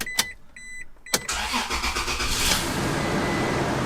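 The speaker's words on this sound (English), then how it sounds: "this will be a nice quiet and leak-free startup" A few clicks, then a Toyota Tacoma pickup engine with a new manifold and converter cranks and catches, settling into a loud, steady idle with a rough rumbling undertone and a slight driver's-side manifold leak.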